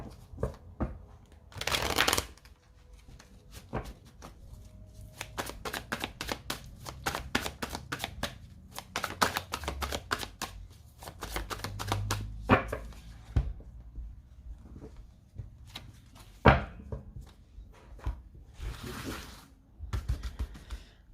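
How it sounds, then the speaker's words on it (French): Tarot cards shuffled and laid out on a table, with repeated riffling bursts and crisp slaps and taps of cards placed down, close and fairly quiet throughout. "on va poser vos cartes à vous"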